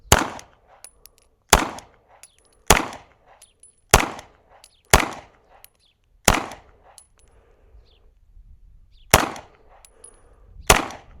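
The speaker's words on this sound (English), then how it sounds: "I will show you what it looks like to shoot through the red dot." Single gunshots fired from a gun fitted with a red dot sight at an outdoor range, about nine sharp loud reports spaced roughly a second apart with brief echoes trailing each.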